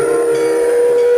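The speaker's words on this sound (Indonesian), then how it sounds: "kereta api wong-wong gujes-gujes" A train sound effect with a loud, sustained whistle tone holding steady for just over a second, bright and near, with no speech.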